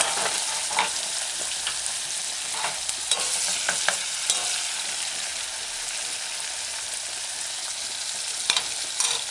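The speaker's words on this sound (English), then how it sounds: "Next, add diced scallion. Allow it to saute." Diced scallion sautes in a simmering corn and salted codfish stew on a stove at medium-low, giving a steady close sizzle broken by scattered spoon clicks and scrapes as it is stirred.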